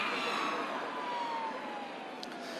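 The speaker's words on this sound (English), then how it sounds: "I've got a siren going past me." Siren on a passing emergency vehicle, a wailing tone that slowly glides downward as it goes by, steady and moderately loud over road rumble.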